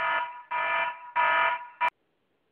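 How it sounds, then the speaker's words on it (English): An alarm clock blares in loud harsh buzzing bursts: three long pulses, a short one, a brief silence, then another burst starting. "Those regular alarm clocks just aren't loud enough to wake up a person like you."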